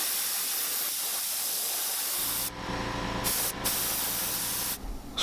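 A spray can or airbrush hisses steadily while painting a soft plastic fishing lure black, a close continuous spray with brief pauses and bursts toward the end.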